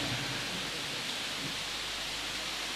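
Heavy rain pours in a steady, dense hiss at an outdoor gathering, filling the space with loud continuous broadband noise.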